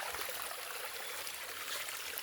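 A rural stream flows in a steady, close, continuous rush of water with no pauses.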